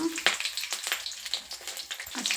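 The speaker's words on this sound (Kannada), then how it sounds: "ಮೆಣಸಿನಕಾಯಿ ಹಾಕಿದ್ದೀನಿ ಅದನ್ನು ಸ್ವಲ್ಪ ಫ್ರೈ ಆಗಲಿ" Green chillies fry in hot oil in a pan alongside peanuts, chana dal and curry leaves for avalakki uppittu, giving a close, steady crackling sizzle with a few sharper pops throughout.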